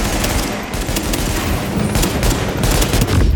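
Loud, continuous automatic gunfire from The Division comes in quick overlapping bursts at close range for several seconds, with brief gaps between volleys.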